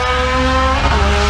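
A Mercedes CLS550 V8 runs at a drag strip, its loud, steady engine roar filling the air with a slight tire squeal, no voices present.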